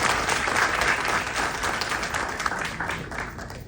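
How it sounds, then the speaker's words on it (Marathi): Dense, steady applause from an audience at a mango farming guidance session, loud and sustained throughout with no pauses. "सर्वांनी जोरात टाळ्या वाजवा"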